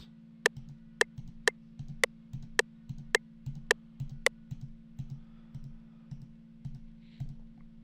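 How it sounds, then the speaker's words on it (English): A computer mouse left button clicked repeatedly to tap a tempo in FL Studio, about eight sharp, evenly spaced clicks at a steady pace over a constant low hum, then quieter faint ticks. "you can tap out what BPMs you want by left clicking on your mouse"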